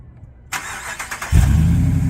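A Ram truck engine cranks and catches after a quiet start and a burst of clicking, then settles into a loud, steady low rumble for the final second.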